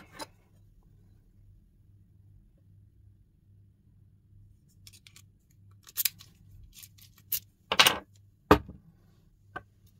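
A Magick Key self-impressioning tool working a Cisa cylinder lock, heard as faint metallic scraping followed by several sharp, close clicks and snaps in quick succession over a low electrical hum.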